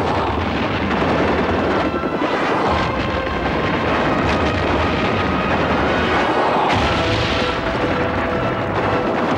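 Helicopters and battle effects on the Rambo 3 film set make a loud, continuous roar of rotor noise mixed with booming blasts and rumbling that swell and drop throughout.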